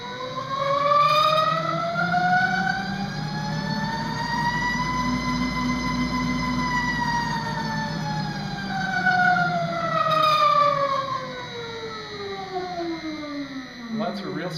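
A Cobra fork bushing test rig runs a simulated dyno run, its motor giving a loud, siren-like whine that rises and falls in pitch in long smooth sweeps.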